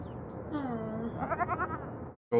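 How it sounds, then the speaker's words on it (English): On-screen goat bleating from a TV drama plays as one drawn-out, wavering cry that rises into a trembling vibrato before cutting off abruptly, clear and fairly close with no talk over it. "Goat lost his friend."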